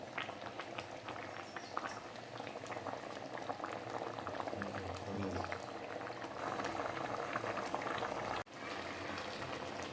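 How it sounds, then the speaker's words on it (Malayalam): Anchovy curry boils uncovered on a high flame, a dense, continuous bubbling and sputtering hiss close up as the liquid reduces, steady throughout with a brief dropout near the end. "ഇനി തീ ഒന്ന് കൂട്ടി വെച്ച് ഇതിലെ വെള്ളം ഒന്ന് വറ്റിച്ചെടുക്കാം നമുക്ക്,"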